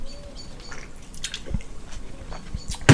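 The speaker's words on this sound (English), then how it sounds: "real quick, water break." A person drinks water during a pause in talking, with a few wet sips and swallowing sounds close to the microphone, irregular and quiet, ending in a louder gulp.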